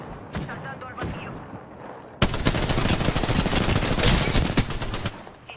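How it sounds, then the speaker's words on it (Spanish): Rapid automatic gunfire in the Apex Legends battle royale shooter erupts suddenly and continues as a dense, loud stream of shots, preceded by quieter game sounds and a voice speaking. "Se está disparando."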